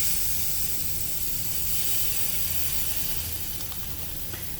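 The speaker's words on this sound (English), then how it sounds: "Now when that's done, it's going to steam." A keto chaffle maker steams after its lid is closed on the batter, giving off a steady, broad hiss that holds throughout without any talk.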